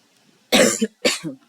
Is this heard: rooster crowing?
no